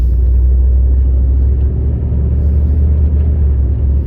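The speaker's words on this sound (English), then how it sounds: "All right, pulling out here in our Dodge Ram for the day." A 2002 Dodge Ram 1500 pickup truck pulls out and drives, heard from inside as a steady, loud low engine rumble with road drone and no talking.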